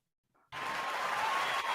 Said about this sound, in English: guys are just applauding for everything.